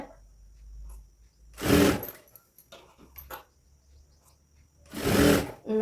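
A sewing machine stitches lace onto a blouse border in two short, loud, close whirring runs separated by quiet handling clicks.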